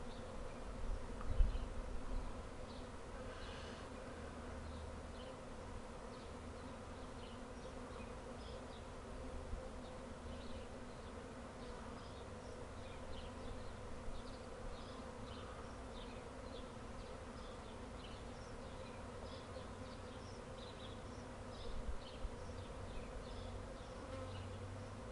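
A swarm of honey bees on a crepe myrtle bush makes a faint, steady buzzing drone that continues unbroken throughout, with no voices over it.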